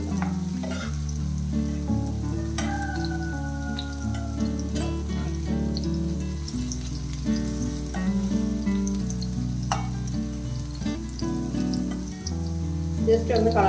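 Paneer pieces fry in a pan, with a steady soft sizzle under background music, and occasional light scrapes as the pieces are turned.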